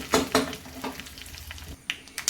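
Two pieces of Byadgi chilli and hing crackle in hot oil for a tempering, a light sizzle dotted with sharp pops and stirring clinks. No voices are present.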